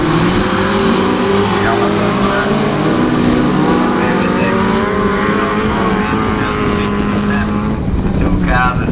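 Several class 6 autograss race car engines roar loudly and continuously, droning and revving together, with a commentator's voice talking over the noise.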